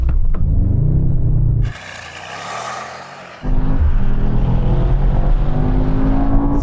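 A Mercedes-AMG GT63 S launches hard in ESP Sport Mode, its engine roaring loud and close, dropping briefly during a shift, then surging back into a strong, sustained accelerating rumble.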